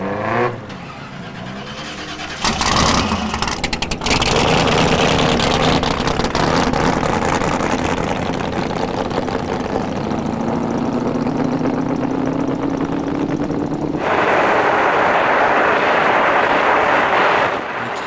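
A race vehicle on a qualifying run near 200 mph, a loud continuous engine roar with a rising pitch as it builds speed, then a shift to harsher broadband rushing noise near the end.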